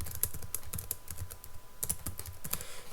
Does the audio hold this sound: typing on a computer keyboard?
yes